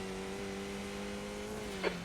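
A steady race car engine drone from a racing video game at Donington, sustained and moderately quiet, its pitch dipping slightly at the end.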